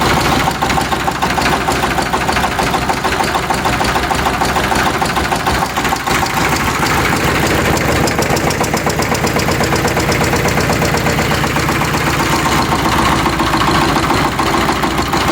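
Diesel engine running with early injection timing, a loud, close, continuous rough clatter with rapid knocking throughout.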